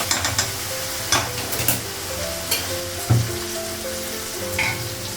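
Duck meat sizzles and fries in a pan, pre-boiled and cooked with whole garlic, with steady crackling and several scraping stirs from a spoon, close and fairly loud, no voices.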